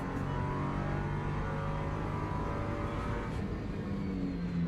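A race car engine in a racing video game holds a steady, continuous drone with shifting pitch, cruising rather than pushed hard, loud and close throughout with no speech.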